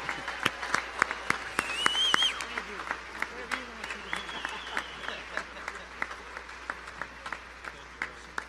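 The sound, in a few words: audience applause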